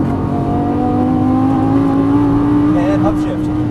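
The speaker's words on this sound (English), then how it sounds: "And full throttle coming out. Let's make a little bit of noise." A Lamborghini Gallardo LP550-2 engine is held at full throttle out of a corner on a track, giving a loud, steadily rising drone that stays close, with someone talking over it.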